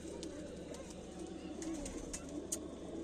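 Pigeons coo in a breeding loft, a low continuous murmur of cooing with faint chirps and scattered clicks over a steady background.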